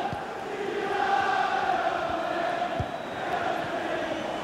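Simulated Liverpool supporters in FIFA 21 during a Premier League match against Chelsea, a steady, loud stadium roar of crowd noise that swells slightly and holds throughout.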